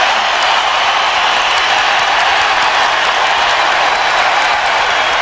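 A basketball arena crowd cheers and roars steadily in a playoff game between the Chicago Bulls and New York Knicks, a dense, loud wash of voices and applause that holds at a constant level with no single voice standing out.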